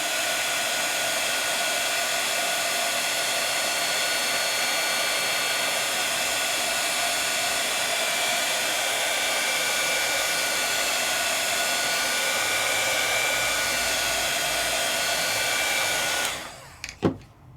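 Handheld heat embossing tool melting embossing powder on a crafted ink project, a steady loud blowing whir running unbroken for about sixteen seconds before cutting off with a few small knocks.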